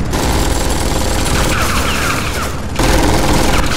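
Automated turrets open fire in Tales From The Borderlands, a loud, dense stream of rapid gunfire and booms that runs continuously, cutting out briefly before resuming at full intensity.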